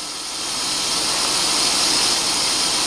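A car engine runs with the radiator cap open, heater and fan on full, producing a loud, steady whooshing hiss that swells in the first half second and then holds evenly throughout, with no voices.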